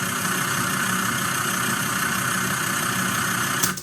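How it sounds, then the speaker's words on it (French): A nearby Jeep engine idles with its motor running, a continuous low rumble with steady mechanical hum and vibration, unchanging throughout until a brief bump near the end. "à côté, il y avait une Jeep avec le moteur allumé"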